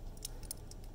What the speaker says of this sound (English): hear that clicking sound? That's just a squishing against the spring because it needs a smaller contact surface.